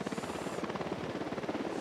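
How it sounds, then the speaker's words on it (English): A helicopter in Ghost Recon Wildlands, its rotor chopping in a fast, steady rhythm, close and loud throughout a short stretch with no voices. "Oh, we've got a helicopter."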